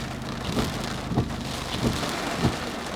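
Sudden torrential downpour drumming steadily on a car driving through Tenpaku Ward in Nagoya, Aichi, a dense continuous hiss with several soft, regularly spaced low thumps rising from it, close and enveloping.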